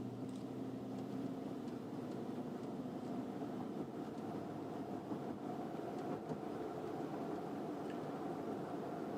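A 2004 Bentley Arnage T-24 Mulliner accelerating up to speed on a straight country back road, a steady low engine and road rumble heard from inside the cabin, continuous and without speech.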